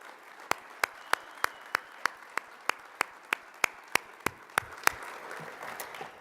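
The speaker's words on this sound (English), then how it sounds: "would you please give a round of applause" Steady, evenly spaced hand claps ring out in a quick rhythm, fairly faint, over a soft background murmur that trails off at the end, at a youth soccer coach awards ceremony.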